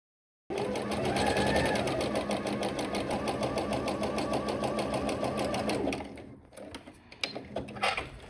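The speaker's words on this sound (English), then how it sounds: "medium zigzag stitch, both in width and length" A sewing machine runs a medium zigzag stitch along a jersey knit seam, a rapid steady mechanical whir with fine rhythmic needle ticks, close and continuous for several seconds before slowing into a few uneven stops and clicks.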